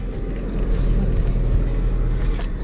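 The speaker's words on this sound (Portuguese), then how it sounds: "Ligar o carro." Car engine running with a heavy low rumble and a steady idle throb that holds loud and even, with no talk over it.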